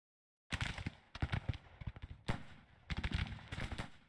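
Volleys of Civil War-era artillery and gunfire crackle and boom in the strategy game Grand Tactician, bursts of overlapping shots in irregular clusters, loud and close, with brief gaps between salvos.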